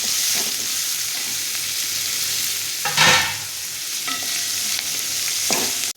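Onion fries in a pan until reddish, with a steady close sizzle and a few stirring scrapes, one louder stir near the middle, then the sound cuts off abruptly.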